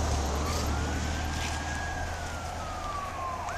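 An emergency vehicle siren of arriving first responders wails in a long rising and falling tone over a steady low engine rumble, moderately loud and continuous with no talk.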